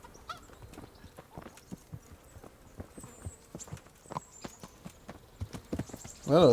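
Horse hooves clip-clop at a steady walking rhythm in Kingdom Come: Deliverance, a medieval role-playing game, with sharp repeated hoof strikes close by and a louder burst of sound at the very end.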